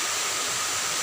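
A waterfall about 20 meters high in the Kuwus district pours in a steady, loud, broadband roar, close and continuous with no other sounds.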